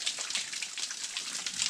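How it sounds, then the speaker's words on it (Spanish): Water falling and splashing at a mountain spring in El Salvador, a faint, steady hiss with small splattering drops throughout, no talk. "Mira, pero ya cae más agua todavía"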